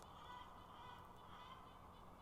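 Chickens clamour inside a chicken coop, a faint, distant, continuous mix of honking clucks over a steady background hum.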